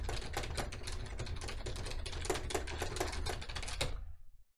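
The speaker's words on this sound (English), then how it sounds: "Let's see what typing is like on this." Typing on a computer keyboard makes a rapid, steady stream of close clicky keystrokes for about four seconds before stopping abruptly.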